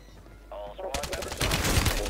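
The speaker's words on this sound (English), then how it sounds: "Got people shooting above us." Rapid automatic gunfire erupts in the shooter game Warzone 3 on Rebirth Island, a brief game tone giving way to dense, loud bursts of shots that keep building to the end.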